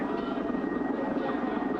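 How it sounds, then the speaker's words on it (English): A cartoon airplane's engine drones steadily as it comes in to land, a continuous mid-pitched roar with no breaks or speech over it. "The plane just landed."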